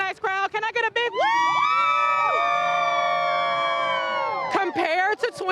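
A large crowd at a children's holiday parade lets out a long, loud, sustained cheer and woo lasting about three seconds, with an announcer talking just before and after.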